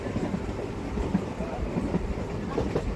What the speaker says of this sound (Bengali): আর তারই ভেদ করে আমাদের ট্রেন ছুটে চলেছে